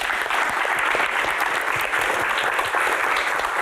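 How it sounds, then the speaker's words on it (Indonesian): Sustained audience applause at a Q&A event, a dense, steady clapping of many hands that holds at full strength throughout with no talk over it. "Tepuk tangan."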